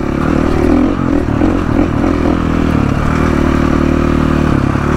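A motorcycle rides along a rough dirt road in Mexico, its mid-pitched engine droning steadily and loudly throughout, with clattering and scraping from the bumpy surface layered over it.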